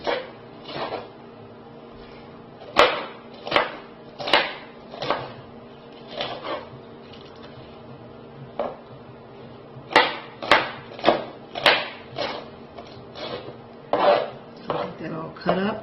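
A knife chopping onions and peppers on a cutting board, sharp knocks landing in quick bursts separated by short pauses, fairly close and clear over a quiet kitchen background.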